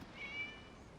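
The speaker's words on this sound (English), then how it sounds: "It was just a cat." A single short, clear meow from a cat in the video game Genshin Impact, set against a faint, steady background ambience.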